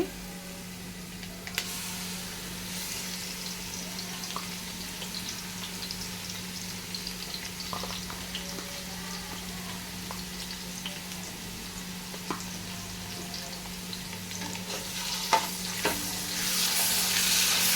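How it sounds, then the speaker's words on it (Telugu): Ginger and garlic frying in hot oil with sautéed onions and curry leaves, giving a continuous bright sizzle under occasional scrapes of stirring. The sizzle swells louder toward the end. "ఇప్పుడు నేను అల్లం వెల్లుల్లి వేస్తున్నాను."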